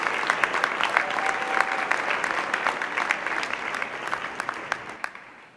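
A crowd at a Wentworth Institute of Technology commencement ceremony claps steadily and warmly, the applause fading gradually toward the end.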